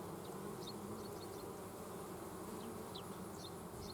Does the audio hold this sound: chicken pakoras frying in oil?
no